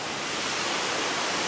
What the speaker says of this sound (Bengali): এই যে দেখুন বিশাল পরিমাণে ওই উঁচু থেকে পানি পড়তেছে